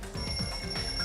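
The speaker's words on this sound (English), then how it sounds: "The lounge's wall clock alarm started ringing at 5:30." Wall clock alarm ringing in a lounge in the video game Danganronpa 2, a loud, continuous rapid bell-like trill filling the short moment with no speech.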